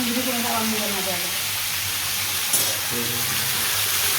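Food sizzles and crackles steadily in a frying pan as it is stirred, a dense continuous hiss with low hum underneath and a faint clink partway through.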